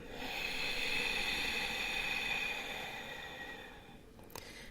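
A slow, breathy exhale pushed through a constricted throat, a hissing rush of air that fades over about four seconds, close and quiet.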